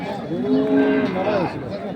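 A single long, close cow moo at a cattle fair rises and falls for about a second and a half, loud and clear with little else around it.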